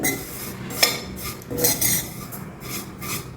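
A metal spoon stirs sweet semiya (vermicelli) in a pan, scraping and clinking against the metal in a few uneven strokes at moderate volume, with no voice.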